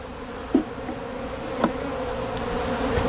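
Honey bees hum steadily at a fairly new hive with fresh white comb during a hive removal in Weslaco, Texas, a close, continuous buzz with a couple of brief louder passes and no talking.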